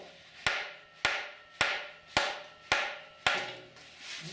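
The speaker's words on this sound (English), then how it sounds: "I'm just going to bang on it with a hammer and see what happens." Six hard hammer blows strike an antique Kohler generator at a steady rhythm of about one every half second, each a sharp metallic crack fading into a brief ringing tail, loud and close, with no talking.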